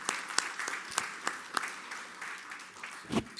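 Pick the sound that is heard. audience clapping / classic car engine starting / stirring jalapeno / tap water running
audience clapping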